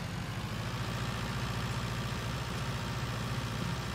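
A Massey Ferguson tractor engine in Farming Simulator 19 drones at a low, steady idle, a continuous rumbling hum at moderate distance with no talk.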